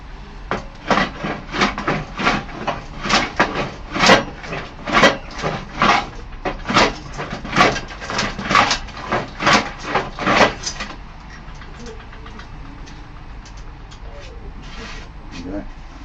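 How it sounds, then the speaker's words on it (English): A hand plane shaves wood on a workbench in a steady series of about twenty rasping strokes, close and distinct, then gives way to quieter handling noise. "Now it's actually planing it properly, or for the most part."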